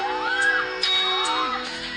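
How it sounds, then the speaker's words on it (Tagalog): People shout and scream together during a strong earthquake in Taiwan, raised overlapping voices with rising cries that run continuously at a moderately loud level over a brief stretch. "Ayun na, oh, sumisigaw sila."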